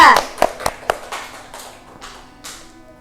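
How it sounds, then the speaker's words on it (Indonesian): A class group claps hands in a classroom: several sharp claps near the start, then scattered softer ones trailing off over about three seconds. "tepuk tangan untuk kelompok 2"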